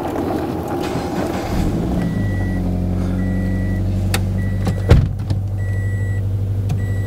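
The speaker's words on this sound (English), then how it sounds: "Listen to that Subi Rumble startup." A Subaru BRZ engine turns over and settles into a steady low rumbling idle, close and loud, with a sharp thump partway through and a faint intermittent tone.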